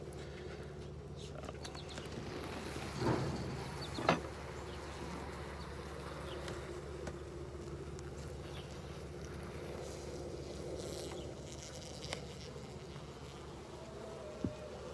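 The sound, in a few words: honey bees buzzing in an open top bar hive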